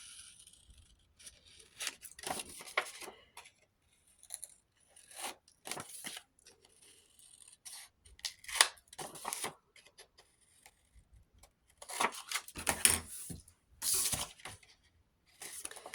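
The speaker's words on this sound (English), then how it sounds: "I'm just going to cut these corners again." Scissors snipping the corners off a paper craft piece, irregular clusters of crisp close cuts and paper rustling separated by quiet gaps, with no talking.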